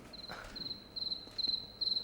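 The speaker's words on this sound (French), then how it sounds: "quelques bruits de grillon" Crickets recorded in the Paris metro, a high steady trill pulsing in short repeated bursts, clear and close over a quiet background.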